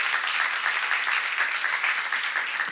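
A church congregation applauding during a sermon, a short burst of dense, even clapping from many hands at moderate volume, with no voices heard.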